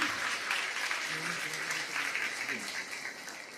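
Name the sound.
audience applause at poetry event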